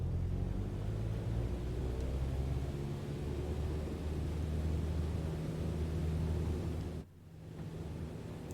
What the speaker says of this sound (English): Let's take off now, just to show you guys what takeoff's like.